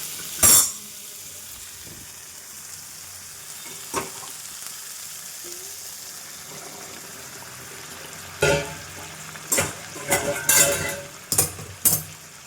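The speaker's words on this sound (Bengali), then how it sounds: "এবার এই গরম জলটা দিয়ে দেবো।" Hot water hits goat meat in a pan and bursts into loud sizzling crackles, followed by softer bubbling and scattered metal clanks of stirring, with further sharp sizzle bursts near the end.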